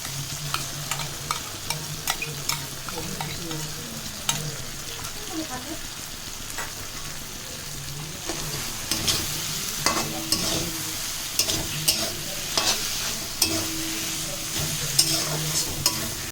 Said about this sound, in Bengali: কিছুক্ষণ এইভাবে তেলের সাথে নেড়ে চেড়ে নেওয়ার পর এইবার পেস্ট করে রাখা নারকেলটা দিয়ে দিচ্ছি